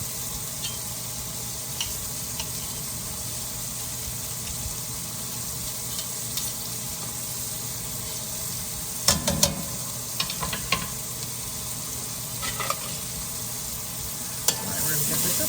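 Garlic sizzling in hot oil in a one-pot paprika chicken dish, a steady soft frying hiss with a few brief stirring scrapes and clicks near the end.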